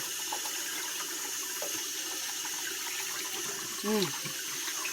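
Radish being washed for kimchi under a steadily running tap, water splashing continuously into a sink, with a brief faint voice-like sound partway through.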